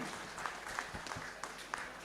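An audience at an alumni gathering in a Bandung hall claps faintly and from a distance, a brief thin patter of applause with a few sharper claps standing out.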